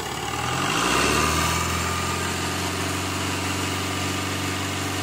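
A Tata Vista's Quadrajet diesel engine revs up: a loud, close, continuous engine drone rises in pitch over the first second, then holds at a steady raised speed without voices.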